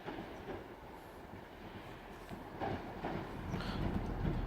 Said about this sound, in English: the 170 is arriving, heading for Dundee and Aberdeen bound